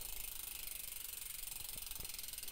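Rear freehub ratchet of a Stan's NoTubes ZTR Arch S1 bicycle wheel on a SRAM GX Eagle 1x12 Specialized Rhyme, giving a quiet, steady buzzing click with a couple of sharper ticks near the end.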